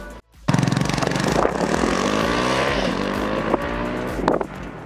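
A TVS Apache RTR 200 4V motorcycle starts off on a test ride, its engine roaring loudly up through the revs after a short pause, pitch climbing steadily with a few sharp shift blips near the microphone.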